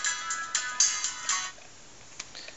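Mobile phone speaker playing a ringtone-like melody through a bottle in a larger room, a bright, thin, tinny tone with no bass that pulses for about a second and a half before fading to faint room noise and a couple of taps.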